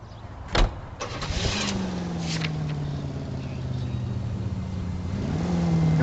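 A car engine in L.A. Noire turns over with a sharp click, then settles into a steady running hum that climbs slightly in pitch as the vehicle pulls away, moderately loud and without talk.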